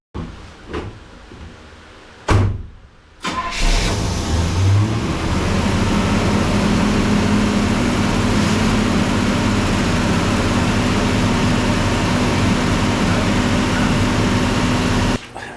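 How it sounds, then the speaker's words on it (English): A Pontiac LeMans with an engine fault, starting after a few thuds and then running on at a loud, steady, high idle close by, its revs held too high throughout. "the engine's revving a bit too high"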